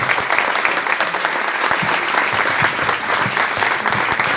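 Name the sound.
congregation applause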